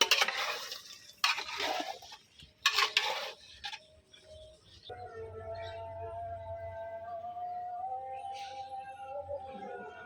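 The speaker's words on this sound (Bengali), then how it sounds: "আলুটা দিয়ে আবার আমি ভালোভাবে তরকারিটা কষাই নিব, আলু আর মাংসটা" Beef and potato curry is stirred and fried in a pot over a clay stove, with a few loud scraping strokes at the start followed by a softer ongoing sizzle and bubbling.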